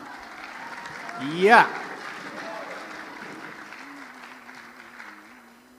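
Audience at a national Quran quiz final gives a brief round of applause, moderately loud clapping that swells and then thins out, with a voice speaking afterwards.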